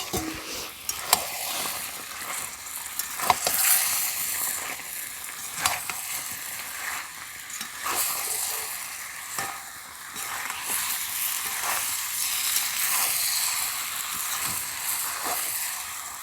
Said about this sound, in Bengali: এরই মধ্যে আলু এঁচোড়টা দিয়ে কষাবো।